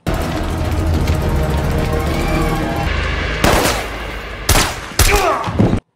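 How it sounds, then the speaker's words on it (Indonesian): Heavy film gunfire: a sustained, loud fusillade of automatic shots rattling for several seconds, then a few separate, sharp bursts with short gaps between them. "Suara tembak-tembakan itu terdengar hingga ke ruangan tempat Ibu Menteri diamankan"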